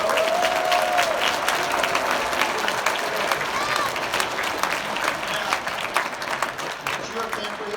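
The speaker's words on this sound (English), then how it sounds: "Give a hand of applause" Crowd applauding at a Pathfinders convocation at White Memorial, loud sustained clapping from a large audience filling the room, with a faint voice or whistle briefly rising above it early on and gradually easing toward the end.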